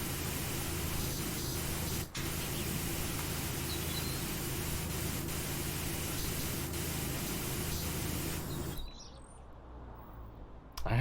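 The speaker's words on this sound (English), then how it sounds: "the white noise is definitely kind of making you feel sleepy, isn't it?" Pressure-washer spray from PowerWash Simulator: a steady, dense hiss of water jetting that holds almost unbroken for about nine seconds before dropping away near the end.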